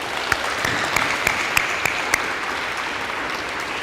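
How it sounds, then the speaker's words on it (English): A crowd at a school DARE graduation applauds the police officers, even continuous clapping with a few sharper claps standing out near the start, sustained at moderate loudness throughout. "give them a round of applause"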